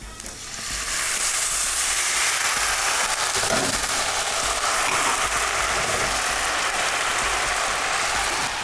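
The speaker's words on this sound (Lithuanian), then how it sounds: "į keptuvę keliauja baltas vynas" A loud, steady hiss of liquid sizzling in a hot pan, starting abruptly and continuing densely like heavy rain.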